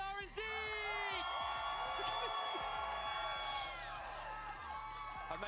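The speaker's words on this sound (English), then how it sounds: "Can I get a huge round of applause representing Brazil?" A crowd at a Fortnite FNCS esports event claps and cheers loudly and steadily throughout, with whoops rising over the applause and a dense tonal hum running underneath.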